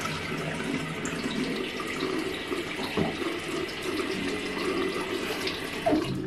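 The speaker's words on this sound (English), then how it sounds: "I just wet my face with warm water" Warm tap water runs steadily from a faucet into a bathroom sink as a face is wetted during a skincare routine, a continuous close splashing stream with no talk.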